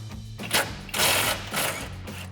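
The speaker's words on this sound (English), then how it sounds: "Now we can loosen up our most forward frame bolt." A 17mm socket ratchet loosening the forward frame bolt on a 2016-2023 Toyota Tacoma, with three short bursts of rapid ratcheting clicks close up.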